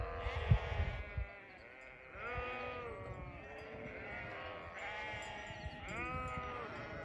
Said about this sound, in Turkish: Koyunlar da yaklaşıyor tuzla kayalara.